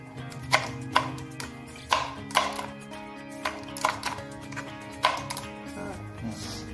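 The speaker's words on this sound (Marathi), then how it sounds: "कोथिंबीर बारीक करून घ्यायचे" Fresh coriander being finely chopped with a knife on a board: brisk, evenly spaced sharp taps in quick bursts, close and clear, with no talk.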